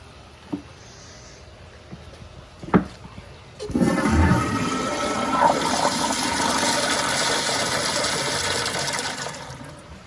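A Kohler Kingston wall-mounted toilet flushes with a sudden loud rush of water that holds steady for several seconds before tapering, preceded by a few small clicks and knocks.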